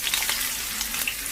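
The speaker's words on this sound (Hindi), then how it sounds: "और बकाया जो प्याज था अब वो हम इसमें फ्राई करेंगे" Onions frying in three to four tablespoons of desi ghee in a pan for beef kunna gosht, a dense, continuous close sizzle with no voices.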